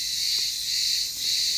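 Crickets chirp in a dense, continuous high trill outdoors in the shade during a village breakfast in the countryside, fairly loud and close, with no talking over it.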